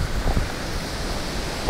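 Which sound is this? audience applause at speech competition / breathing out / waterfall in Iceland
waterfall in Iceland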